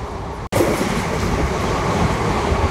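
A train arriving at a railway station on the Tirupati–Puri Express route, a loud, continuous rumble of wheels and cars close by after a brief cutoff at the start, with no speech.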